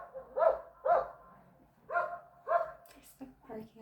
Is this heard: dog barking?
yes